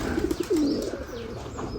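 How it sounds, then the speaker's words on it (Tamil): Pigeons coo softly inside a well, a quick string of low repeated notes and then a longer rolling coo, with hollow echoey air around them. "கிணத்துக்குள்ளே ஒரு எட்டு புறா பக்கம் இருக்குங்க"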